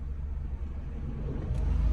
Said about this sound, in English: We're gonna wait for this car to pass. There's a truck coming.